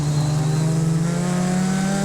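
Formula Continental race car engine in a racing game, a loud, sustained steady drone held at high revs, rising slightly in pitch throughout with no pauses.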